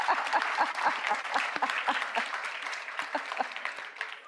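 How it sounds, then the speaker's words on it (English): A conference audience at a city leadership session breaks into brisk applause, many hands clapping in quick overlapping bursts that gradually thin out over about four seconds. "That deserves a round of applause."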